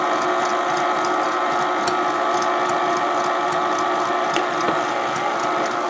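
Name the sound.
mixer on stir setting mixing cocoa icing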